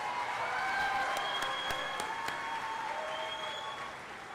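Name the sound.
audience applause at a commencement ceremony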